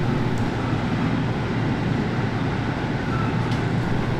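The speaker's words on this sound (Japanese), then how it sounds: "浜名湖をぐるっと回って走るローカル列車が走ってるんですよ。" A single-car Tenryū Hamanako Railway local train on the Tenhama Line near Shinjohara station by Lake Hamana, a steady, loud low rumble of rolling wheels and motor with no talk over it.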